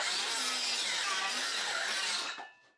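A saw cuts steadily at a new house construction site in France, a continuous raspy grinding that runs unbroken for about two seconds, then stops abruptly and leaves near silence.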